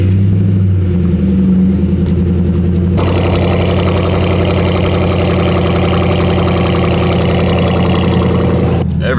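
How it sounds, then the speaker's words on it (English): A car's engine cold starts nearby, with a loud low idle and then a sharp jump into a raspier, busier roar that holds at high idle before cutting off abruptly. "Every time I hear that cold start, man, every time, it sounds so good."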